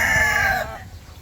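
Boston Black gamefowl rooster at a breeder's yard crowing once, a loud close cock-a-doodle-doo call that cuts off sharply after about half a second, leaving quiet background.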